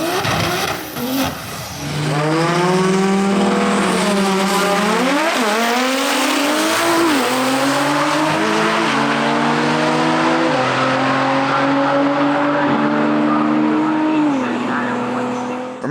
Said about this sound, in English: This G80 M3 always puts on a show when he lined up.